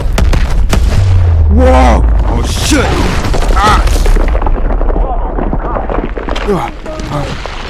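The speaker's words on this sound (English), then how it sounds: "Explosions! This place is going up!" Loud booming explosions and heavy gunfire from the video game Call of Duty Advanced Warfare, with a deep rumble running throughout under excited shouting voices.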